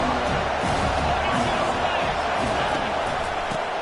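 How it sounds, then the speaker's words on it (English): Stadium crowd roar in the College Football 25 video game during an Ole Miss Rebels vs Louisville online dynasty matchup, a steady dense wash of cheering and babble holding at a constant loud level throughout. "This crowd knows when to bring it."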